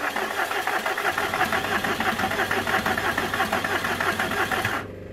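A Volkswagen T1 air-cooled engine, about to have its cylinder head gasket replaced, runs close with a rapid, knocking idle rhythm that holds steady for several seconds before cutting off near the end.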